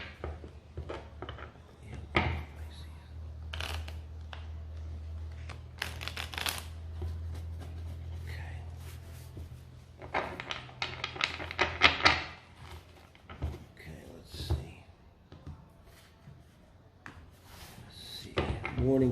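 Tarot cards being shuffled in repeated crisp riffling bursts, close up, with a person speaking softly between shuffles.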